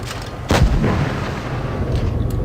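A single loud tank cannon shot in World of Tanks Blitz, from an IS-8 heavy tank, booms sharply near the start and then rumbles and decays, with no talk.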